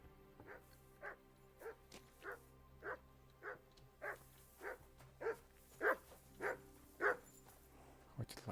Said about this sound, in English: Хватит лаять.